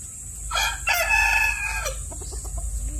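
A Japanese Shamo rooster that is molting crows once, a long harmonic call close by, and then gives a few soft clucks alone against a low steady background hum.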